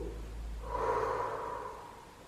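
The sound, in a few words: exercise exhale, blowing out breath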